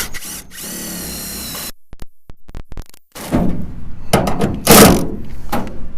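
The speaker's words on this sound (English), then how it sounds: "we're going to go ahead and attach another self-tapping screw through the flap into this outside edge of the wheel well" Power drill driving a self-tapping screw through a mud flap into the outside edge of a truck's wheel well, a steady whine first, then short bursts with knocks and clunks, close and loud.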